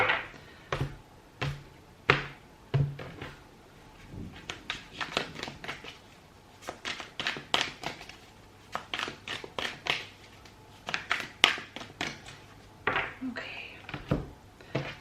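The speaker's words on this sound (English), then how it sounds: "I'm just going to give your cards a quick shuffle here, Taurus" Tarot cards being shuffled in a quick reading session, giving a run of crisp, papery snaps and riffles that come in uneven bursts over the whole stretch, close and fairly loud, with a few softer gaps between.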